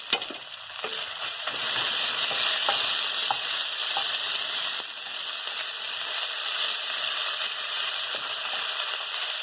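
Beef and noodles stir-frying for wet beef chow fun, a loud continuous sizzle with scraping stirs of the spatula, close up and without talk.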